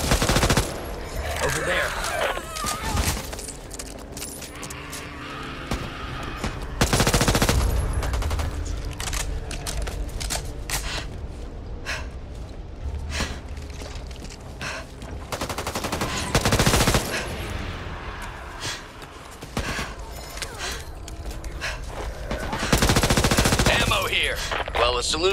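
Assault rifles fire in Back 4 Blood in long automatic bursts that come and go, loud and close, over a constant background of game noise, with occasional brief speech between the volleys.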